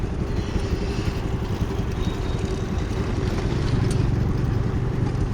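A Scooty scooter creeps slowly through a deep pothole on a rough road, its small engine droning low and steady up close with a slight rise in revs near the end, no voices.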